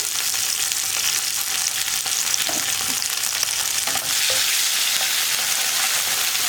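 Garlic paste sautéing in hot oil for a green peas curry, a loud steady sizzle close by throughout with small stirring clicks and no talk.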